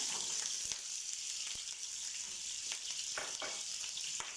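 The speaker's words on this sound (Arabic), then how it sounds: "هنا بتشوفون بنات راح احمسه ويا الثوم" Green beans sautéing lightly with garlic in a pan give a steady, close sizzle with occasional sharp stirring clicks and scrapes, no voices over it.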